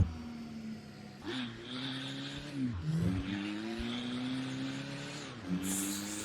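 An Isuzu D-Max pickup in the game Assetto Corsa, engine droning and shifting pitch while tires squeal and skid through turns, with a few thumps and a bright hiss near the end.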